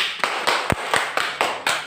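Pupils in a classroom clap together in a steady rhythm, about seven sharp, evenly spaced beats, close and fairly loud.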